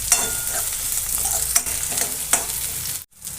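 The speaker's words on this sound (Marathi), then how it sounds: "आता त्यामध्ये कांदा गुलाबी कलर येईपर्यंत परतून घ्यायचं छान." Onion and green chili frying in hot oil while being stirred with a spoon, a steady bright sizzle with a few scraping strokes against the pan, close and alone, ending in a brief pause.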